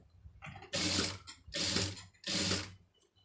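A sewing machine stitches a puff sleeve edged with a silk border in three short, loud, even bursts with brief pauses between them, close up.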